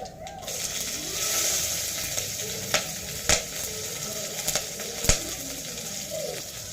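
Cumin seeds and green chillies frying in hot oil for Kurnool-style uggani, a close, steady sizzle broken by scattered sharp pops and clicks, with no talking.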